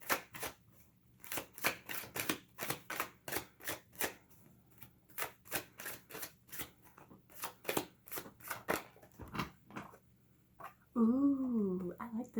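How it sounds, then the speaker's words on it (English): Tarot cards are shuffled by hand in a long run of crisp, rhythmic riffling bursts close by, and a voice speaks briefly near the end. "It's a lot of shuffling."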